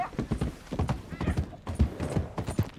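Horse hooves galloping in the Western video game Red Dead Redemption, a close, loud, rapid clip-clop rhythm pounding steadily across the clip.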